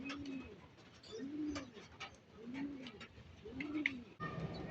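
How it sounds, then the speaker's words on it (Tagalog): Pigeons or doves cooing outdoors after rain, four soft rolling coos at an even rhythm, moderately near and alone against faint background noise. "Ayan mga kaibon, oh"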